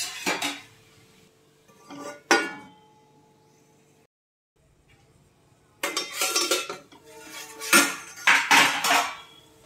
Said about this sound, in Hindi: सभी चीज़ों को अच्छी तरीके से साग को बिल्कुल चला देंगे